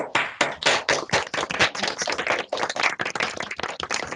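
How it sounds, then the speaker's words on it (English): Participants on an unmuted video call clap together, producing distinct, uneven hand claps close to the microphone, some overlapping in quick bursts, with brief gaps between. "give Hazel and David a really big round of applause?"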